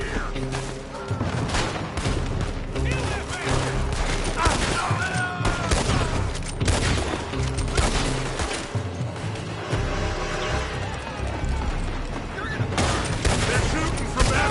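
Gunfire crackles in the video game Red Dead Redemption 2, with dense overlapping shots and booms under game music and character voices, loud and continuous throughout.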